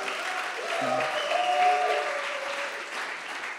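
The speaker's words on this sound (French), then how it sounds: "on va quand même remercier le jury et l'applaudir maintenant" Steady applause from a crowd at a Le Wagon Demo Day in Paris fills the clip, dense clapping holding at an even level throughout with faint voices underneath.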